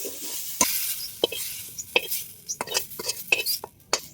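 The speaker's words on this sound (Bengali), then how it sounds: "ঢাকনাটা তুলে নেড়ে দেব এখন ভালো করে ভেজে নেব" A spoon scraping and tapping in a frying pan with a light sizzle under it, as vegetables are stirred and fried after the lid comes off. Sharp clinks come in an uneven series, close and fairly clear.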